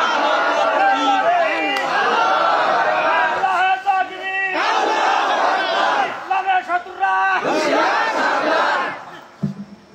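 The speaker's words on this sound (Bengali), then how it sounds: "স্লোগান দিয়ে দুহাত উঁচু করে দেখান" A large crowd at an outdoor Islamic sermon gathering (waz mahfil) in Pabna shouts slogans in loud, ragged unison, several surging bursts of massed voices rising and falling over about ten seconds before dropping away at the end.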